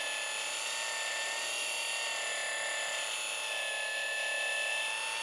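A power sander with 1500 and then 2000 grit paper works over the paint on a Porsche Taycan panel. It gives a steady, close, high-pitched whine that barely changes for the whole stretch, with no talking.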